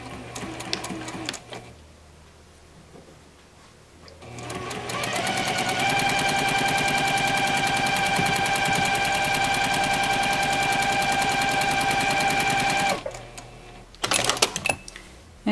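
Sewing machine stitching quilt pieces with a back stitch, a steady loud mechanical whir running for about seven seconds after a few quieter starts and stops, then brief clicks at the end.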